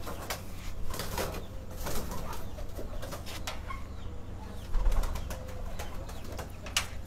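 A 3-4 year old pigeon and other flying pigeons coo repeatedly at close range, with deep throaty calls and occasional flutters over a busy background.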